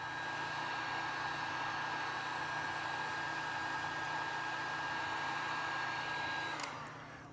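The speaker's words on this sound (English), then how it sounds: "So we got the shrink wrap. We slide that over. Let's go get our heat gun." A heat gun shrinks shrink-wrap tubing during assembly of an OpenPPG paramotor frame, giving a loud, steady blowing roar that holds constant for about seven seconds before cutting off near the end.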